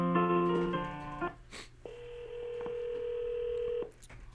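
A phone call is transferred. A few telephone tones give way to a long, steady ringback tone that holds for about two seconds. The sounds are clear and nobody speaks.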